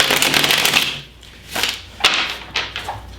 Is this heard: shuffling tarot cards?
yes